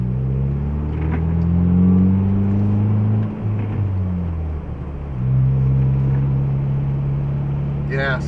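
A 2023 Ford Bronco Heritage with the 2.3L EcoBoost engine rumbles through a FlowMaster FlowFX muffler while driving past a roundabout. The deep, steady drone dips as the driver shifts, then swells again as the engine revs back up.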